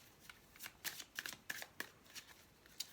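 Romance Angel oracle cards are shuffled by hand, giving quiet, crisp bursts of riffling and slapping in an uneven rhythm.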